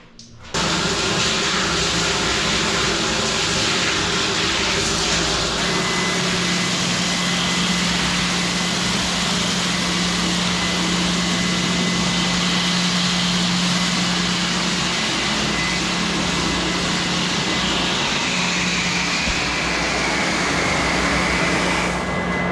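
An electric water pump motor with a pressure tank runs steadily, a loud, continuous mechanical hum with a low drone and a faint tonal whine, holding even throughout with no talking; a small leak drips nearby.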